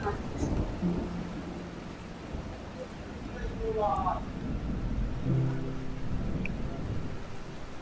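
Steady rain pours down throughout in Jashore, with a low rumble of thunder underneath and a few faint sounds in the background.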